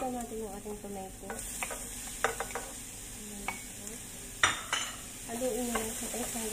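Tomato frying in oil in a pan with a spoon scraping and stirring, steady sizzle with repeated sharp utensil scrapes and clanks, close and moderately loud, with no talking.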